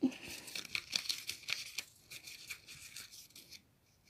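A paper slip being folded one-handed to go into a small glass jar, with soft crinkling and crisp creasing rustles in a quick irregular run, close and fairly quiet, fading toward the end.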